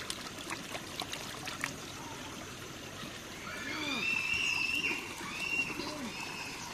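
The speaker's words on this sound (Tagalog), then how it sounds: "Hugasan natin itong ating nakuha dito sa tubig na umaagos." Flowing stream water in a mangrove area as a catch is washed: a soft, steady trickle and splash close by, with pigeon-like cooing and other bird calls around it.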